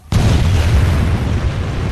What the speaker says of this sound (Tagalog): Ikaw yung gumawa ng pagsabog na yun